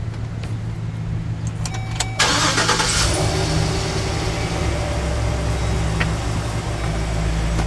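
A full-size rear-wheel-drive GM vehicle cranks briefly and fires up, then settles into a steady, close engine idle that continues to the end.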